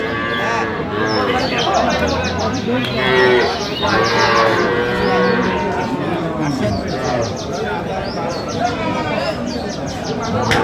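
Dairy cows and calves at a busy rural cattle market in Dinajpur, mooing amid dense crowd chatter and bargaining voices, with a few bird chirps in the background throughout.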